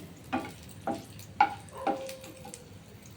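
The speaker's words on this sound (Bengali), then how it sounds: "এই লঙ্কা ভাজা হচ্ছে" Chillies sizzle and crackle in hot oil, with a few distinct stirring scrapes spaced about half a second apart.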